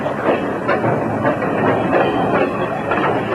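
A train rolling slowly over a poorly maintained branch line, a steady loud rumble with rhythmic clatter and hiss from the wheels, continuous and close throughout.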